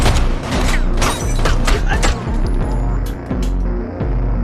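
Gunshots strike a superhero's suit in a film scene: a loud, dense burst of rapid shots with metallic impacts that slowly thins out, layered under background score.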